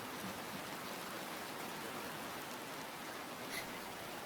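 A steady, soft hiss of rain falls at school gates, continuous and even without breaks, heard alone at a faint, distant level.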